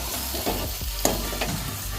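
A spoon stirs Kashmiri red chilli, kitchen king garam masala and turmeric into a sizzling pan of Surti cheese paneer ghotala, with steady frying hiss and a few soft scraping strokes, close and continuous.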